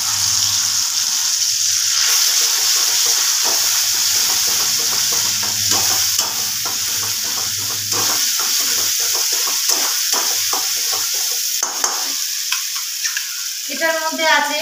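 Ground spice paste of ginger, green chili, tomato, cashew and melon seeds sizzles loudly in hot oil with whole garam masala and dried chili for a paneer curry, a steady close fry with stirring scrapes.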